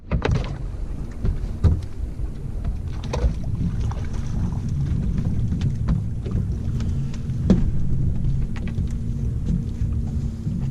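A fishing boat's big outboard motor runs on Lake Erie with a steady, close, low rumble, mixed with wind noise and a few thumps from the hull.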